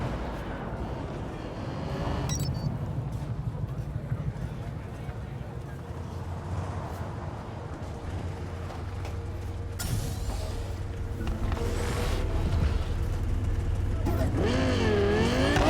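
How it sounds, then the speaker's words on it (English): A Caliburn car driven in Cyberpunk 2077, its engine droning and revving steadily with rising and falling pitch, loud and close throughout, with a sharper surge of engine noise near the end. "As you can see, the cars are a lot louder now."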